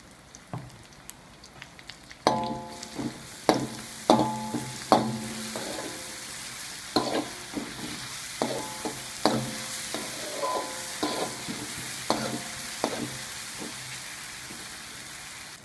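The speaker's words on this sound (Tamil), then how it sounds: "வெங்காயம் வதங்கிய பிறகு நம்ம இஞ்சி பூண்டு விழுது சேர்த்துக்கிறோம்" Onions with ginger garlic paste sauté in a pan, a steady low sizzle punctuated by repeated clattering scrapes of a spatula stirring at a fairly regular pace.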